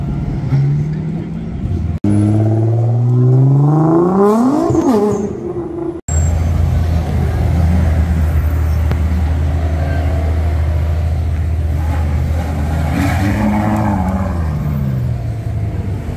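Supercars rev hard and drive past on a Monaco street during Top Marques 2022, engine pitch sweeping up through loud revs and gear changes as traffic passes close by, with people talking over the noise.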